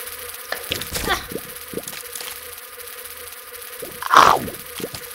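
Buzzing of a giant fly enemy in the video game The Binding of Isaac, a steady insect drone under game sounds with a louder burst near the end, while someone talks in Slovak between the effects.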